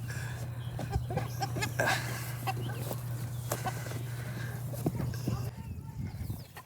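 Chicken clucking in short bursts as it flees, with hoof-like clattering, a steady low hum and people shouting over it.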